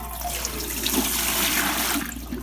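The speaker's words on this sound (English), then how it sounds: "So I'm going to start filling that up" Hot water runs steadily from a tap into a large 23-quart water bath canner, a continuous rushing, splashing flow heard close and alone with no talk.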